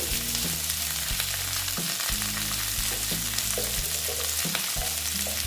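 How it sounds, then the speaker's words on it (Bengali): Pointed gourd (potol) fries in hot oil as a dense, constant sizzle, punctuated by repeated scraping stirs of a spatula in the pan. "পটলগুলো। দিয়ে ভেজে নিচ্ছি"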